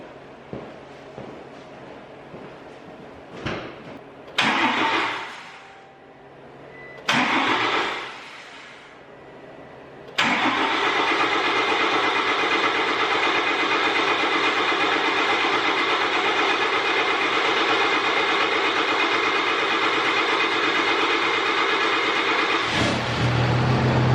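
A Cummins truck engine cranks over a few times in short bursts, then catches and settles into a loud, steady running rumble.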